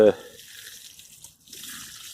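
Rainwater from a water butt is poured onto onion sets in a container inside an allotment polytunnel: a short splash at the start, then a soft, steady trickle that fades briefly and returns.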